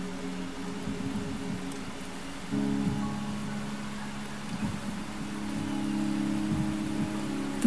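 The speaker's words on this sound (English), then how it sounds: "The rain is subsiding," Rain falls steadily in the video game Wuthering Waves as a soft, even hiss, layered over a low, continuous humming drone that swells slightly in places.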